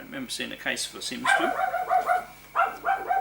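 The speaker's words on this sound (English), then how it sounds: "Excuse my dog." A pet dog barking close by in a room, several sharp barks and yips mixed with a person speaking over them.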